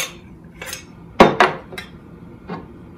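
Ice cubes dropped into a chilled glass for a piña colada, heard as several sharp close clinks and clatters, two loud knocks in quick succession in the middle and lighter taps before and after.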